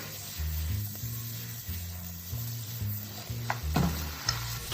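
Cucumber pieces stirred in a heated pan over raised heat give a soft, steady sizzle with light scraping, kept under a layer of background music.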